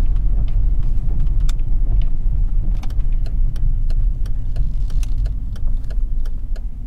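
A 2001 Mercedes S600 rolls along a rough road with a steady engine rumble and road noise, punctuated by sharp clicks and rattles as it hits bumps, after a suspension valve block replacement.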